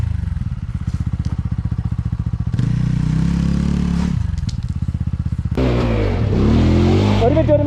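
Off-road vehicle engine revving hard on a Vagamon trail while a tyre spins stuck, with repeated throttle bursts rising and falling, close and loud, ending in a harsh scraping whine of wheelspin; voices talk over it.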